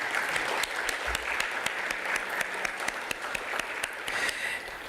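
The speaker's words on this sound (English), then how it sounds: "let's give them a round of applause" An audience at an innovation and industry summit claps steadily for several seconds, with sharp individual claps standing out above the dense, moderately loud applause.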